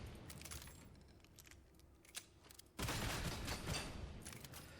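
Sustained gunfire from a weapon in the Darktide video game, aimed at a Plague Ogre: a quieter stretch of scattered shots, then a loud, dense burst of rapid fire from about the middle onward, with no talk.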